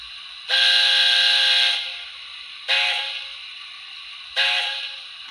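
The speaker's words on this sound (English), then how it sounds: "Give you a few more whistles." Steam whistle sound from a Hornby A4 model locomotive fitted with a Soundtraxx Econami DCC sound decoder: three shrill whistle blasts, the first long and the next two shorter, clear and alone against a faint background hum.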